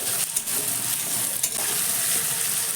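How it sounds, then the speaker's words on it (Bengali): Chopped tomato fries with onion in a pan for an okra dish, giving a loud, constant hissing sizzle with a couple of brief scraping stirs near the start. "টমেটো দেওয়ার পরে ওই এক মিনিট মতো একটু টমেটোটাকে ভেজে নেব পেঁয়াজের সঙ্গে"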